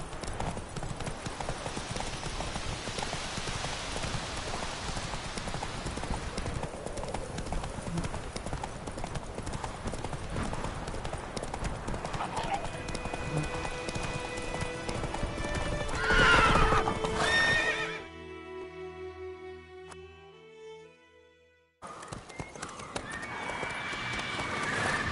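Roach the horse gallops with rapid rhythmic hoofbeats in The Witcher 3, then whinnies loudly before the sound drops away into a musical sting and resumes.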